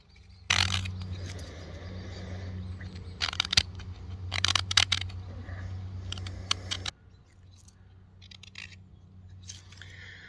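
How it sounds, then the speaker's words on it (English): A knife carves a wooden owl spoon, giving close, quiet clicks and crisp shaving cuts in irregular bursts over a low steady hum that drops away partway through. "I'm going to cut from one side and I'm going to turn it,"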